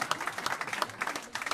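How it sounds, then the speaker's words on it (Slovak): An audience claps together, a brief burst of scattered applause at a modest level, with no talking over it. "Zaslúži sa tento človek veľký potlesk."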